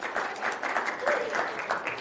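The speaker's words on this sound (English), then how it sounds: "big round of applause for Rebecca and the team who've done that" An audience applauds at a UK Research and Innovation update event, steady moderate clapping from a crowd lasting a couple of seconds, with faint voice fragments mixed in.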